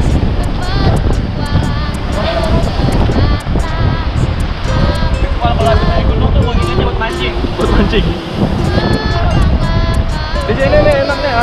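Ocean waves breaking on a sandy beach, a loud continuous surf roar mixed with heavy wind buffeting on the microphone while people talk close by.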